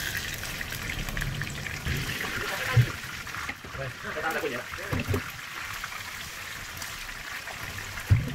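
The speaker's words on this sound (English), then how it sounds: "When the oil is hot, add in the fish." Fish frying in hot oil in a pan, a steady close sizzle and crackle with a few louder pops, running under a person talking.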